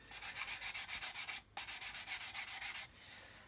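A hard sanding stick rubs back and forth along the walkway panel lines of a model build, making fast rhythmic rasping strokes in two bursts with a brief pause, close and alone.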